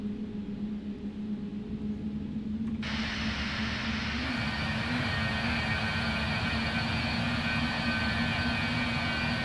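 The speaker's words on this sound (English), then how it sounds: "You can start to hear the howl of the engine. Of the flaps." Engines and flaps of a BAe 146 jet airliner in flight, a steady whining howl over a broad roar that suddenly grows brighter and louder partway through, then holds constant.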